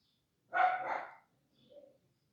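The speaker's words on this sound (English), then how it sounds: "I hear the dog barking out there." A dog barks outside: one loud, full bark close at hand, then a shorter and fainter second bark, with no voices.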